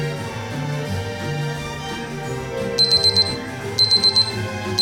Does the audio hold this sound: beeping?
yes